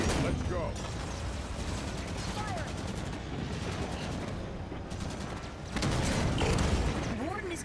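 Rapid gunfire volleys in a video game crackle in dense bursts over a mechanical clatter, continuous and loud, with voices calling out in the midst of the shooting.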